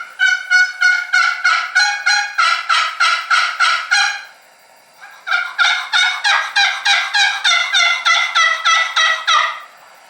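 A Lynch Model 150 Longbeard wooden box call is stroked in two loud runs of rapid, evenly spaced raspy yelps, deep-toned to mimic a long-bearded turkey, separated by a brief pause, with no talking.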